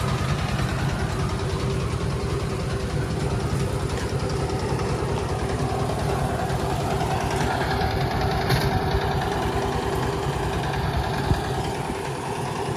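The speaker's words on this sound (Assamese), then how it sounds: "এইফালে চাইডৰ পথাৰত ট্ৰেক্টৰে হাল বাইছে" A tractor engine ploughing a field hums as a steady, rumbling drone with a knocking pulse. It stays at an even level throughout, with no voices.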